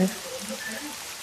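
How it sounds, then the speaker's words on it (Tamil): Heavy rain pours in a dense, constant hiss of broadband noise while a voice speaks over it. "பலத்த மழை பெய்ய தொடங்கியது."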